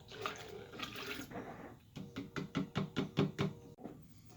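Blackberry sangria with Malbec is stirred in a pitcher, sloshing liquid followed by a quick series of rhythmic knocks of the spoon against the sides, close and fairly quiet.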